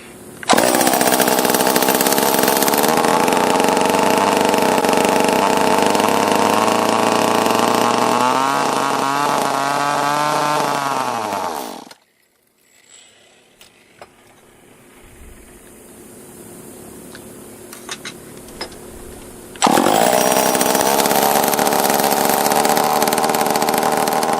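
A small top-handle chainsaw engine, on the bench for repair, roars loudly and steadily, revving up before cutting out abruptly. After several seconds of near quiet it fires back up at full volume.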